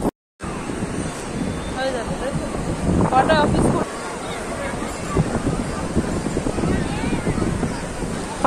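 Cold wind buffeting the microphone at Digha seaside beach, a constant rough roar with surf in the background, while people talk nearby over the gusts.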